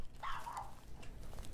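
A single short, faint dog bark in a horror video game, one quick yelp over a quiet background.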